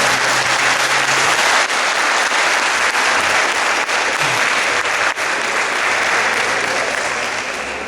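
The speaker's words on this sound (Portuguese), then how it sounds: "receber uma salva de palmas para o irmão que se sente realizado no terreiro" Sustained, even applause from a gathering at an Umbanda lecture in Volta Redonda, honouring a brother in the terreiro; dense clapping continues steadily for several seconds and tapers slightly at the end.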